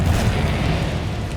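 A Confringo spell from Hogwarts Legacy lands as a short, loud, low boom with a dense rumbling burst and no pause in it.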